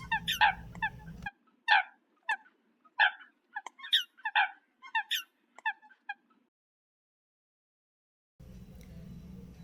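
A coot, a black duck-like waterbird with a white bill and forehead shield, gives a run of short, sharp calls in quick succession, clear and fairly close, then falls silent before a low background hum returns.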